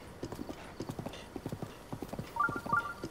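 Horse hooves clip-clop in a steady rhythm across open ground in Zelda: Breath of the Wild, close and fairly loud, with a brief whinny-like call near the end.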